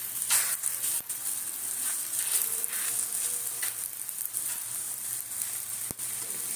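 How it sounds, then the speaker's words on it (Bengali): An oats paratha fries in oil while a spatula presses it down, producing a constant close sizzle that swells with each press, broken by a couple of sharp knocks, with no voices. "এইভাবে খুন্তি দিয়ে একটু চাপ দিচ্ছি, ওখানে তেল ঢুকবে"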